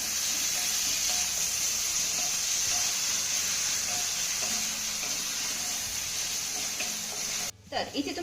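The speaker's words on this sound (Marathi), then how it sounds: "आता हा घातलेला कांदा आपल्याला चांगला मौसूद होईपर्यंत परतून घ्यायचा आहे" Chopped onion with asafoetida sautéing in a pan, a steady close sizzle with light stirring scrapes; a voice speaks briefly near the end.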